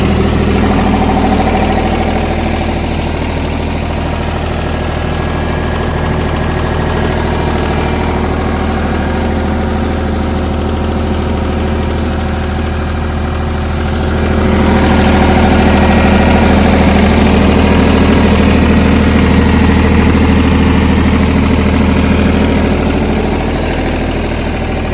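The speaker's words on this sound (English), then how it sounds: "the ditch witch fired right up" A Ditch Witch trencher engine idling close by, a loud steady mechanical rumble with vibration that grows a little louder and rougher partway through and holds without talk.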